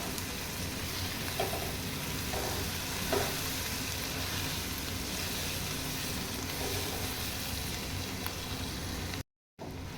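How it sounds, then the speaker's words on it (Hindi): Masala with turmeric powder fries in hot oil in a pan while a kale chane shorba curry is being cooked. A close, continuous sizzle crackles evenly throughout, with a brief dropout near the end. "मसाला अच्छी तरह से भून लेंगे।"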